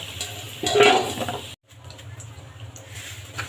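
Fried potatoes are lifted out of a pan of hot oil with a metal utensil, scraping and clattering against the pan over faint frying, then a short break and a quieter steady sizzle.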